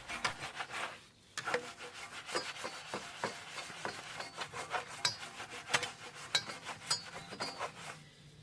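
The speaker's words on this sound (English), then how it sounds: "The inner barrels are then cleaned. I either use this brush here or a wheel woolly." Inner barrel of a car wheel scrubbed with a brush, making close, quick scratchy strokes in an uneven rhythm after a brief pause near the start.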